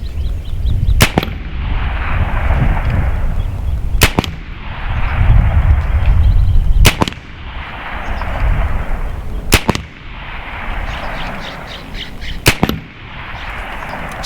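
Five sharp, loud shots from an S45 Mini .45 caliber air pistol, spaced about every three seconds, each a crisp crack followed by a low rumbling tail, with no talking.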